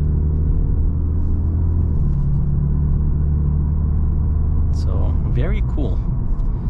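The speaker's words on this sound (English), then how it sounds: "We're gonna hop on the highway and we'll see how this Genesis D70 will do" A tuned 2023 Genesis G70 with a Stage 3 tune, lowering springs and roughly 500 lb-ft of torque drives on the road, its steady low engine and road rumble continuous under a man's speech.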